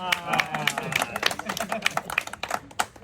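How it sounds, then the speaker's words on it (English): A small group of visitors claps briefly at a roadside attraction built around a level test on two pieces of wood, giving scattered, uneven handclaps nearby. Voices talk over the clapping. "give him a round of applause."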